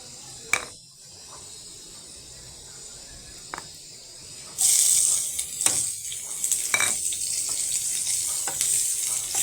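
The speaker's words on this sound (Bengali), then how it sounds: "পেঁয়াজ আর তেলগুলো তেলে ভেজে নিচ্ছি" Onions frying in hot oil in a home kitchen pan: a soft sizzle that turns into a loud, steady hiss about halfway through. Scattered clicks and taps sound over it, and nobody speaks.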